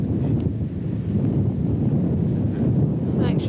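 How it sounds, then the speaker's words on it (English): Wind buffets the microphone at a hilltop lookout at Pat's Bluff in Tasmania, a steady low roar of gusts for a few seconds with faint rustling and no clear speech. "Bit windy up here, isn't it?"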